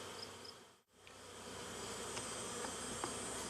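Honey bees buzzing around an opened backyard beehive, a dense, steady hum that fills the space, close and continuous with a brief dip before the drone swells back, no voices.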